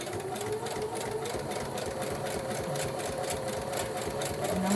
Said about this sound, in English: And I actually got a new sewing machine